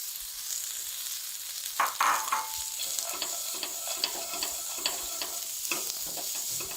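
Capsicum frying in a pan for chicken vegetable soup, a steady sizzling hiss broken by clinks and scrapes of a spatula stirring against the pan at irregular intervals.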